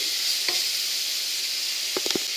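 Mushrooms frying in a pan give a steady, loud sizzle with a constant hiss, broken by a few sharp scrapes and clacks of a utensil stirring them, mostly near the end.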